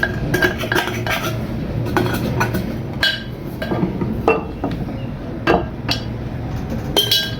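Metal utensil scraping hardened pounded camphor out of a mortar, a close series of sharp metallic clinks, scrapes and knocks in an irregular rhythm, loud and with no talking.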